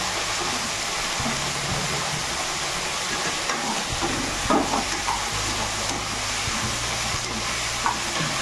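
Shredded cabbage with turmeric fries in a pan, a steady dense sizzle broken by stirring scrapes and occasional louder clatters, close and continuous.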